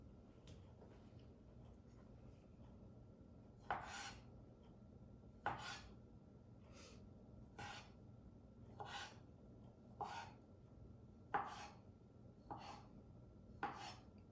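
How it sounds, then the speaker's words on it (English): A knife chops green grapes on a board, about nine distinct chops landing at an uneven pace, quiet and close, with low background hum and no talking. "chop the grapes."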